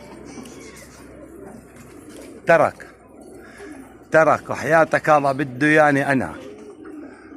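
Pigeons on a rooftop coo softly in the background between bursts of someone talking loudly close by.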